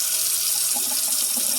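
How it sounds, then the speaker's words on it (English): Water runs steadily from a household tap into a sink, a continuous broadband hiss with faint splashing near the drain, close by and without speech. "Let's get the water running."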